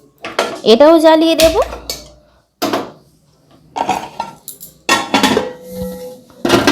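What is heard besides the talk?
metal baking pots placed on gas stove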